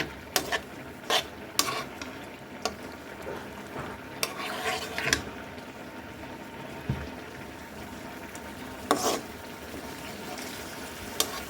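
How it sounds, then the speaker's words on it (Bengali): Bottle gourd greens and rohu fish with green chili sautéing in a pan, a continuous sizzle broken by repeated sharp clinks and scrapes of a spatula against the pot. "দিয়ে একসাথে আমি এটা ভালো করে আরেকটু কষিয়ে নেব"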